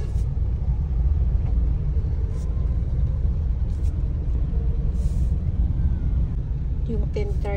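Road traffic in a jam drones as a steady low rumble of idling engines, with a hiss of air brakes and faint scattered clatter near the end.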